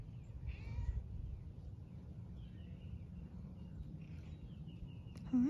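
A young kitten outdoors gives a faint, distant meow near the start, with soft low background rumble, brief bird-like chirps and a sharp close sound at the end.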